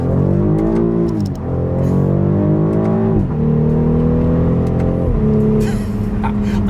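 A 2026 BMW X5 SUV accelerates hard in manual mode, its engine rising steadily through three loud, close gear pulls with brief dips at each shift and small exhaust pops between them.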